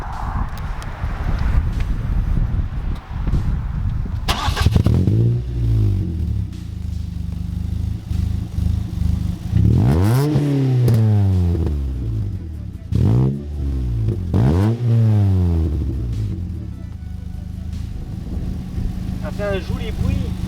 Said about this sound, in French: C'est pas moi qui fais du bruit, hein, c'est le pot.